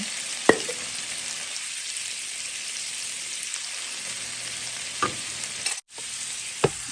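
Steady, bright sizzling of asparagus stir-frying in a hot, slightly too small pan, broken by a few sharp clicks of a utensil against the pan.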